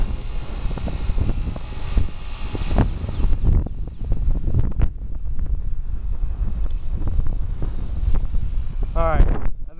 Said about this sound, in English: the wind just comes and goes